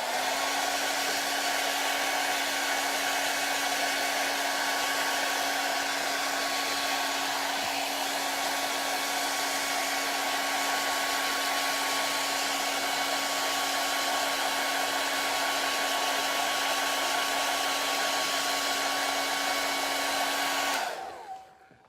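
A hair dryer runs steadily to dry paint on a painted piece. Its blowing roar and whine are close, even and constant for about twenty seconds, then it clicks off at the end with no talk.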